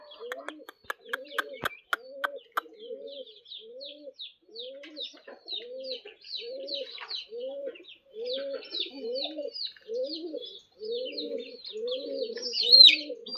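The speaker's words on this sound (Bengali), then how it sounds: "কবুতর" Pigeons coo repeatedly in a rhythmic, close series of soft throaty calls, with a few brief taps and higher chirps mixed in.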